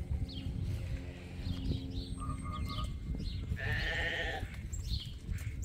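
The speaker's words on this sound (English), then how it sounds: "That's also a nice ewe lamb." A ewe lamb bleats in a short, clear, wavering cry at close range over a steady low rumble of farmyard background noise, with a few quieter animal calls nearby.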